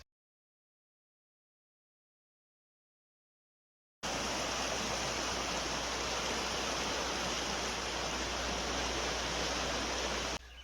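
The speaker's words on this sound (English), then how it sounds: "This is the stream, we call it a creek" After four seconds of silence, a shallow farm creek, now only ankle deep, flows in a steady, even rush of water that carries on unbroken to the end.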